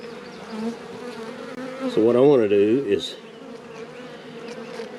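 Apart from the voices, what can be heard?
worker honey bees buzzing in an open hive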